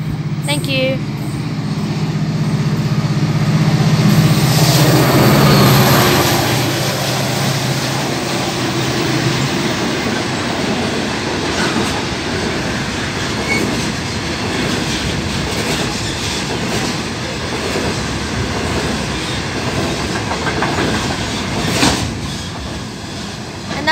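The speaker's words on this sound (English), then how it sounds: "And the freight train is coming." A freight train rolls past nearby, loud rumbling and rhythmic clattering of wheels over rail joints, with occasional squeals, easing slightly as it continues.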